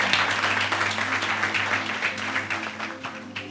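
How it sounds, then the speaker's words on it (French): An audience on a French Saturday TV show applauds loudly with sustained clapping and a steady low hum underneath, the clapping thinning slightly toward the end. "Et on les applaudit bien fort encore une fois."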